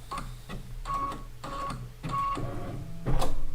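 A home embroidery machine stitching out a flower design for a quilt block, its needle chattering in rapid bursts with brief pauses between runs, steady and close.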